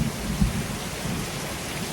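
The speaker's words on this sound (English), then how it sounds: "it is coming just a downpour here" A thunderstorm downpour, heavy rain falling in a steady dense roar with a low thump of thunder near the start.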